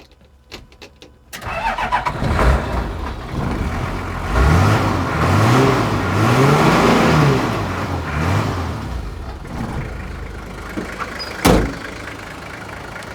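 A Toyota HJ47 Land Cruiser with a 2H diesel cranks briefly and catches, then revs up and down in a few strong rising and falling swells before settling toward idle, close and loud, with a sharp bang near the end.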